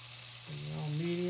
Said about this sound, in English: 1/4 cup of butter, which is a half a stick. Okay. Let that melt down.